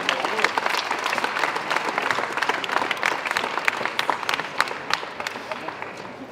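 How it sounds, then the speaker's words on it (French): Sustained, dense applause from an audience at an award ceremony for a French schools' cup, many hands clapping loudly and evenly for several seconds. "Vos applaudissements pour l'URMA Sarthe-Le Mans."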